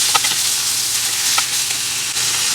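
Onion, ginger, mushroom and carrots sautéing in a hot pan for Chinese-style lumpia, a loud, steady close-up sizzle with a few brief stirring clicks and no talking.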